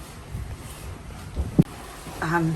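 Steady rushing wind and water noise around a sailboat under sail with engines off in the mid Pacific Ocean, with a brief knock partway through and a creaking tone near the end.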